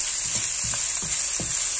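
Garlic and onion stir-frying in oil for stir-fried cabbage with fish sauce: a loud, constant sizzle, with a few soft knocks of a spatula against the pan about every half second.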